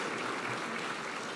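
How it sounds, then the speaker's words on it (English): Audience applause at an award ceremony for Frank Iacobucci, a dense steady wash of clapping at even loudness throughout the short stretch. "another round of applause for Honorable Frank Iacobucci"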